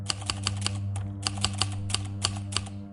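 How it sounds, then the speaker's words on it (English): An old-fashioned, heavy-action typewriter types in quick, uneven clacks, about a dozen sharp keystrokes in bursts, close up over a low steady hum. "an old-fashioned typewriter, one that required a significant amount of force to operate, began typing without anyone near it."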